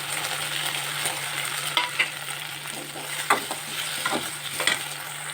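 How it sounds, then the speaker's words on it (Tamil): Tomatoes sautéing with onions in a pan for a vegetable kurma, a constant bright sizzle broken by several stirring clinks and scrapes, close up with no talking. "வெங்காயம் கொஞ்சம் வதங்கியும் தக்காளி போட்டுருங்க. தக்காளி நல்லா வதங்கணும்."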